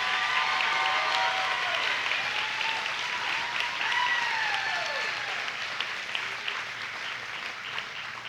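Audience applause fills the grandstand at the 2022 Monroe County Fair Queen and Princess Pageant in Indiana, sustained clapping from a large crowd with a few cheers and whistles, fading slightly toward the end.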